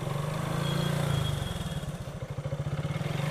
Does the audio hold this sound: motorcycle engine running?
yes